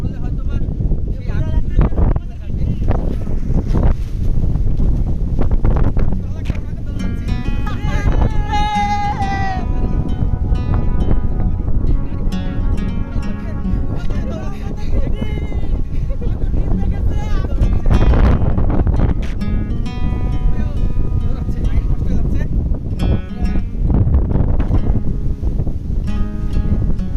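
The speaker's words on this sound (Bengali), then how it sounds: "আকাশে যেহেতু প্রচুর মেঘ এবং দমকা হাওয়া রয়েছে" Gusty wind in the Sundarbans forest buffets the microphone in loud, uneven rushes, while a person talks steadily over it throughout.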